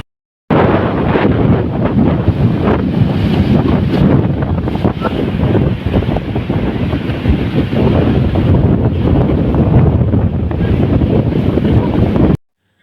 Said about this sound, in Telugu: చూసిరు కదా ఎంతటి చల్లటి గాలో.